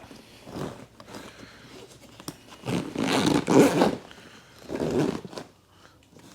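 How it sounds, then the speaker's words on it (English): A heavy-duty zip on a Drifta storage bag in a 76 Series Toyota Land Cruiser is dragged open in several rough, ratcheting pulls, close and fairly loud, with rustling between strokes. "nice heavy duty zips as well"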